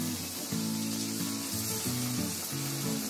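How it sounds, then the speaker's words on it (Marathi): Onion samosas deep frying in hot oil make a steady, dense sizzle and bubble throughout, close and fairly loud, with faint clatter underneath and no talking. "तेलात सोडलं त्याच्या आतलं सारण फ्राय होईल"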